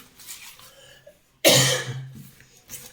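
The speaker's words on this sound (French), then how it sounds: "je m'excuse pas parce que je tousse" A single loud, harsh cough bursts out after a quiet stretch, followed by a softer breathy tail and a faint sound near the end.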